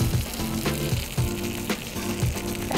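Food frying in a pan gives a loud, steady sizzle, with a few stirring or scraping bursts recurring every second or so.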